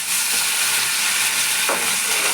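Chilli, ginger paste and spring onion fry with salt in a pan for bitter gourd chorchori, giving a steady, close sizzle and hiss with a soft stir scrape near the end, no voices.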